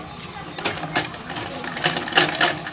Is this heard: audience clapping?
no